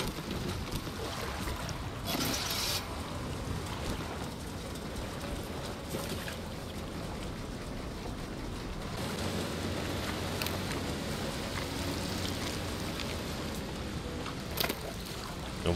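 Boat engine running steadily in Resident Evil Village, a continuous droning rumble with wind and water noise, holding at an even level throughout with a brief louder knock near the end.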